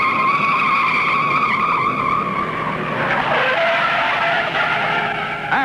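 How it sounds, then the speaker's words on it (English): Two stock cars spinning out during a race, with a Pontiac among the field, tires squealing in long loud wavering skids over roaring engines, the pitch of the screech shifting as the cars slide. "Look out, 2 cars spinning."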